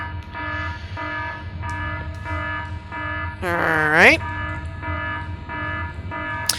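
Ship alarm in Space Engineers during a planetary launch sequence: a buzzing electronic tone pulsing in a steady repeating rhythm, briefly joined by a rising wail, with someone speaking briefly over it.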